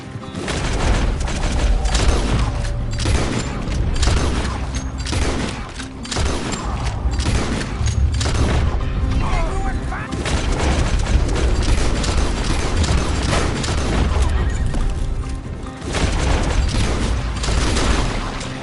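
Rapid gunfire in a Red Dead Redemption 2 street shootout, with dense, overlapping shots and heavy booms sustained throughout, loud and close, with occasional voices underneath.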